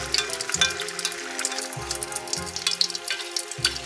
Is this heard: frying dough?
yes